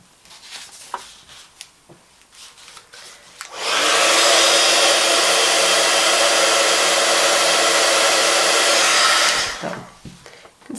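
A heat tool blows steadily for about six seconds, melting embossing powder on a stamped Stampin' Up card; a loud, even whoosh starts abruptly and cuts off, with quiet rustling of handling before and after.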